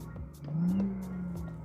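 BMW i8 revving, its artificial engine sound played through the car's speakers, a single rising and falling rev heard close and fairly loud with no talking.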